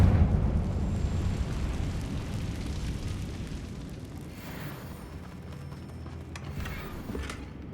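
A Confringo spell blast in the Hogwarts Legacy video game booms and rolls into a long, low rumbling eruption that slowly fades, with faint crackles near the end and no voices.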